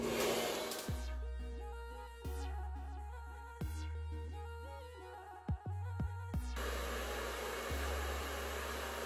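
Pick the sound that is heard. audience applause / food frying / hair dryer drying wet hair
hair dryer drying wet hair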